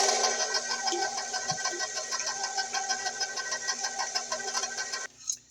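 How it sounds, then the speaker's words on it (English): An electric stand mixer running steadily in first gear while mixing blackberry cake batter, a continuous close motor whir with a rhythmic pulsing beat that cuts off near the end. "So I should mix back up in first gear."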